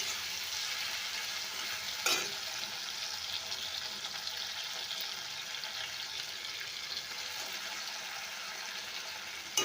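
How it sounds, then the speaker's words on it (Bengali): Spices and tomatoes sizzle in a pan while being stirred, a constant soft hiss with an occasional sharp scrape or clack, close and quiet throughout with nobody speaking. "আমার মশলাটা ভাজা হয়ে গেছে।"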